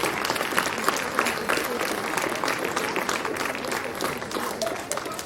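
An audience claps at a school annual day prize ceremony, a sustained, even roar of many hands from a moderately distant crowd that keeps going for about five seconds.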